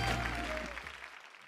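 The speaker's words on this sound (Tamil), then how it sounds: "ஒரு பெரிய கைத்தட்டல் கொடுத்தலாம் அவங்க ரெண்டு பேருக்கும்" Brief burst of audience applause at a televised singing competition, fading out quickly over about a second and a half.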